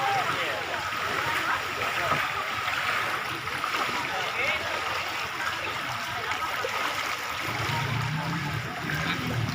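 Floodwater rushes steadily through the streets of Sukapura, a continuous broad wash of flowing water heard close and loud for the whole stretch, with a low rumble entering near the end.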